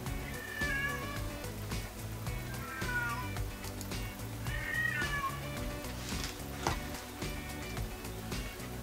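Cats in heat meow repeatedly in the background, several drawn-out, wavering calls spaced a couple of seconds apart over a steady musical bed.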